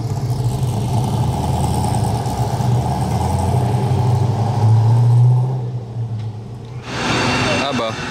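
An Ultima GTR sports car passing on a road, a close, loud engine drone that swells and fades, followed by a short burst of brighter noise near the end; people talk over it.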